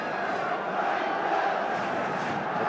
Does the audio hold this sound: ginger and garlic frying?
no